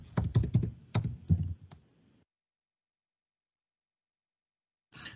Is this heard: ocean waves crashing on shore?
no